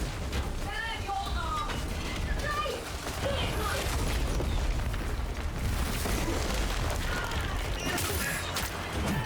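Rumbling, crackling explosions and bursts go off in the fantasy action game Soulframe, with dense, continuous game noise throughout and a player talking over the blasts.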